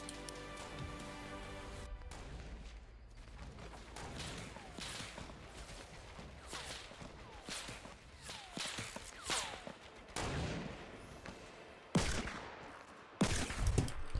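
Sniper rifle shots fired in a Fortnite match, a string of sharp cracks at irregular intervals, with louder blasts toward the end against a busy game background.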